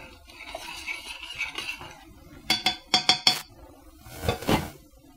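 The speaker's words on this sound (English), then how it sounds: "Once your pumpkin's in, you're just going to stir that to combine it until it's smooth." A spoon stirs pumpkin into syrup in a metal pot, giving soft scraping at first, then a quick run of four or five sharp clinks against the pot, followed by a louder scraping swirl.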